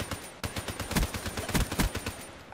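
Man of War rifle in Black Ops 3 firing a string of rapid gunshots in a steady, slightly measured rhythm, loud and close, with no talking over it.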